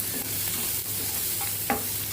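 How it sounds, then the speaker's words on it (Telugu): Vegetables frying lightly with a pinch of salt in a pan, a continuous dense sizzle with a few soft stirring scrapes and one brief clink near the end. "దీంట్లో కొంచెం సాల్ట్ యాడ్ చేసుకుంటాను. లైట్గా ఫ్రై చేసుకొని"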